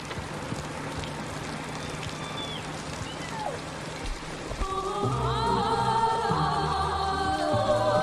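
Steady rain falls across the scene as a continuous hiss, joined midway by a louder tonal sound like music or traffic that rises over it.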